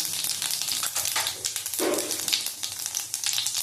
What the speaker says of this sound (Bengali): তেল গরম হয়ে গেছে জিরেটা দিয়ে দিলাম এক চামচ জিরে দিলাম